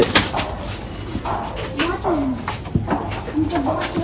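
Desi domestic pigeons coo softly in a loft, with several low, rolling calls repeating through the clip amid general bird chatter and background noise.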